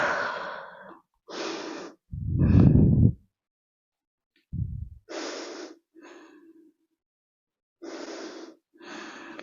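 Deep, audible breaths from a yoga class session, repeated inhales and exhales with pauses between them, some airy and some heavier and lower, heard up close with no talking.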